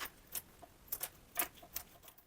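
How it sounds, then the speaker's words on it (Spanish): Scissors snip through mosaic tile mesh backing, five or six short crisp cuts at uneven intervals, close and clear with no talk. "Acá se corta solo con tijera."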